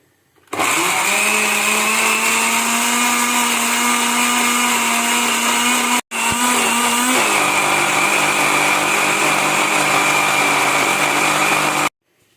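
A blender grinds half a cup of chana (chickpeas) with onion masala, whirring loudly and steadily with one brief stop midway before restarting and running on to a clean cutoff.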